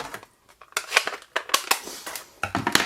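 Scissors snipping through paper or cardstock while making a fold-flat craft box, a series of crisp, close cuts in irregular bursts with brief pauses between them.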